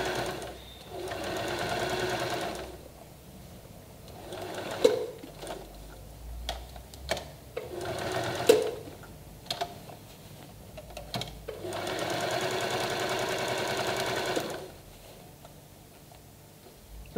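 A sewing machine runs in long steady bursts while straight-line stitching a slanted strip bag, with quieter pauses between runs broken by sharp clicks and knocks of handling. No one speaks.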